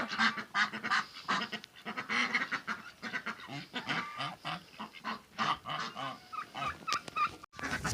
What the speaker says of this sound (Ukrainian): Гуси, качечки їдять